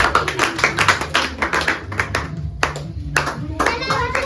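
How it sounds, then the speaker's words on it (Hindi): Hands clap for a young winner at home, a lively run of close, sharp claps that thin out and pause midway before resuming, with children and adults talking over them. "ताली बजाओ ना।"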